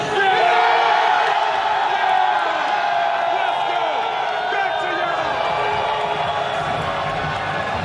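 A large crowd of USA soccer fans at a World Cup group-stage match against Australia, a dense continuous roar of cheering, whoops and shouting held at a steady loud level throughout.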